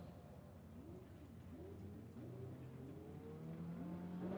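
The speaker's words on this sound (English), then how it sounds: "And we are sending the cars." Formula Drift cars launch side by side from the start line at Evergreen Speedway, engines rising together into a building rev, fairly distant and steady, with no talk over it.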